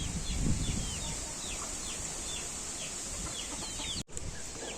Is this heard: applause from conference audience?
no